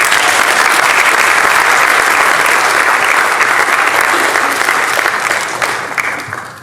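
Sustained, loud audience applause from a crowd, dense and continuous clapping that holds steady before gradually tapering off near the end, with no speech over it.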